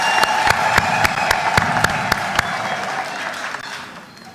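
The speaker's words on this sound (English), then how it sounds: "let's clap for him and welcome him" A convention crowd claps to welcome an arriving guest at a Narc Kenya political gathering, with loud, dense applause and sharp individual claps standing out, gradually fading toward the end.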